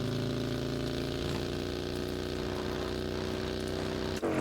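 A video game motorcycle engine in PUBG gives a steady, droning hum with a low idling rumble, running continuously and ending in a brief dip near the close.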